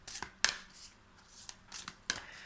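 Oracle cards shuffled by hand for a card reading: soft, quiet riffling and sliding in a few short bursts with crisp snaps, close by.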